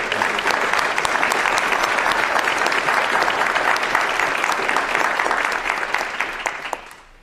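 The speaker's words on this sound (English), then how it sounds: "How about a round of applause to the families as well that have served our country?" A crowd at a Veterans Day ceremony in Belleville, Illinois applauds steadily for several seconds, a dense, sustained clapping that tapers off at the end.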